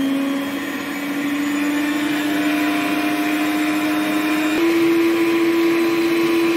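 Electric mixer whirring steadily at low speed through cake batter flavoured with orange blossom water, a constant close motor hum that shifts up slightly in pitch partway through.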